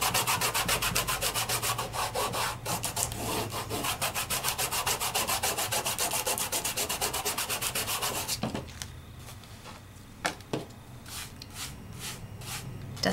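Rapid, steady rubbing of a cloth over a die-cut piece glued to a card front with fine glitter, a close scratchy sweep that runs continuously and then gives way to a few sparse scrapes and taps.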